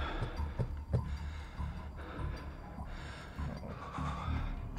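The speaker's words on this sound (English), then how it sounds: "Oh no, why are we heavy breathing?" Heavy, rhythmic breathing of a player character in the video game Black Ops Cold War, with gasping inhales and snorting exhales repeating over a low ambient bed, moderately loud and close.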